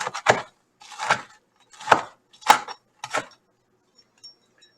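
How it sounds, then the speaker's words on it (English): Knife slicing potatoes about a quarter inch thick for fried potato salad, five crisp chopping strokes in a steady rhythm, close and fairly loud, followed by near silence. "Just cut them about a 1/4 inch and always keep your eye on the knife"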